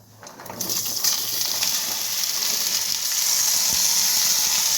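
Mixed vegetables (carrots, beans, flat beans, cabbage and peas) sizzle in a little oil in a wok, a steady bright hiss that rises quickly after they go in and holds loud and close throughout, with no talking.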